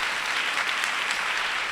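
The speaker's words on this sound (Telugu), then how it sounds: "కూర్చోండి, గట్టి చప్పట్లు కొట్టండి" Steady, loud applause from a church congregation at a worship service: a thick, continuous wash of many hands clapping together at close range.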